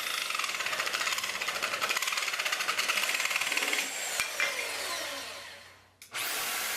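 A Bosch jigsaw cuts through timber, its rapid reciprocating buzz running steadily and close, shifting pitch as the speed changes near the exit, then briefly dropping away before restarting.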